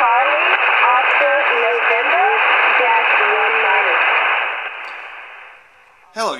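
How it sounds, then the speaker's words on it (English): Amateur radio net opening preamble for a preparedness network, received over the air: a steady, bandlimited radio voice with hiss speaks continuously, fading out near the end before a short burst of static. "what you were listening there was the preamble or the net opening for the American Preparedness Radio Network"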